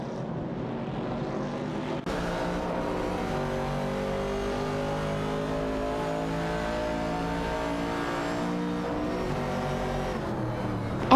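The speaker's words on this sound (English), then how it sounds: "The Ford Mustang Boss is making its move against the Chevrolet Camaro 70." Racing video game with a Ford Mustang Boss and a Chevrolet Camaro 70: engines drone steadily with rising and falling harmonic revs, several cars overlapping at a constant level, no talking.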